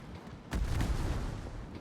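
Battleship main guns firing shells in the naval game World of Warships, a single heavy low boom that swells suddenly and rumbles on through the rest of the moment, with no talk.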